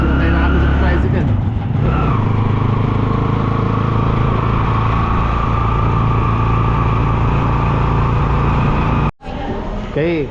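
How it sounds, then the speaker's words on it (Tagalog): Motorized tricycle engine droning loud and steady from inside the ride near Boracay, with a brief cutout near the end before the hum resumes. "sinakay na kami sa tricycle"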